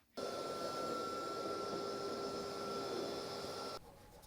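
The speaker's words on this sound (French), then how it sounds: "Avec l'aspirateur, il n'y a rien qui change." A vacuum cleaner drones steadily while cleaning dust, metal filings and cobwebs off a lawn tractor, a loud continuous whine with a fixed tone that holds for several seconds before cutting off, leaving faint room noise.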